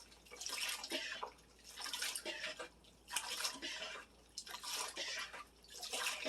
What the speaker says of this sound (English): I take one of these strainers, and I scoop the water into the strainer with any little debris, particles of food